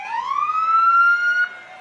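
A single emergency vehicle siren at a firefighters parade wails loudly, its tone sweeping upward and holding steady before cutting off abruptly.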